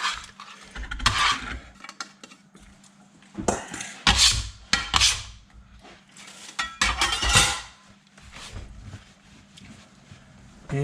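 A board scraper scrapes and knocks against a cutting board while beef stir-fry is being prepped, giving several bursts of close, gritty scraping and clacking with quiet pauses between them over a low hum.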